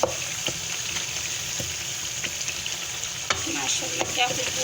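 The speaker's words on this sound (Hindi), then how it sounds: "अब इसको 10 से 15 मिनट के लिए इसको अच्छे से भून लेंगे।" Masala fries steadily in a pan for chana dal with lauki, a continuous close sizzle with a spoon scraping and stirring at intervals throughout.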